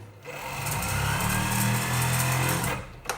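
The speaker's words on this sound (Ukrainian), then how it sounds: "Максимальні оберти можна задати регулятором, все одно стартує з мінімальних" A Brother MD7220 industrial sewing machine motor with an SL 710A needle positioner whirs steadily at speed for about two and a half seconds, a close, continuous mechanical hum that starts low and then winds down.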